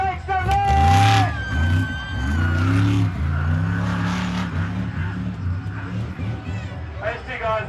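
A monster truck at a stunt show in Australia roars at full throttle, its engine revving loudly with rising and falling pitch, while an announcer talks excitedly over it throughout.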